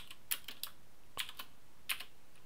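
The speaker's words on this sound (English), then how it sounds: "And then we'll go back to our file and finish typing." Computer keyboard typing while Java code is entered on a Mac, a few quick clustered keystrokes spread across a couple of seconds, close and fairly quiet, with no voices.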